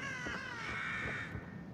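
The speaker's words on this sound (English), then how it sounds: "Shut up, you noisy crows." Crows cawing in the horror game The Evil Within, a steady run of harsh overlapping caws at moderate, even loudness with no voices over them.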